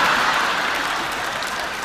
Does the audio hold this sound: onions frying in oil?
no